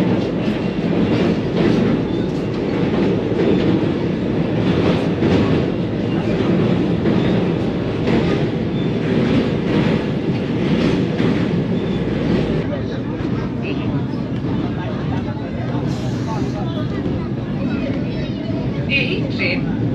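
A Howrah–Puri Vande Bharat Express runs into Cuttack on its first commercial run, a steady rolling rumble with rhythmic clickety-clack of wheels over rail joints, heard from inside the train, with a person talking over it.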